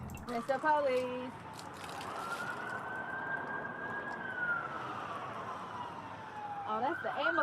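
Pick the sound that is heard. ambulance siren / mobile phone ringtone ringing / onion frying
ambulance siren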